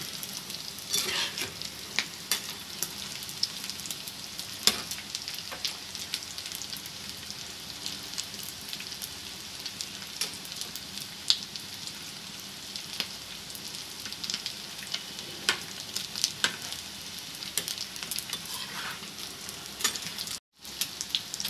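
Eggs fry in oil in a pan until brown for gongura egg pickle, giving a steady close crackling sizzle with occasional stirring clatter, running continuously until a brief cut near the end.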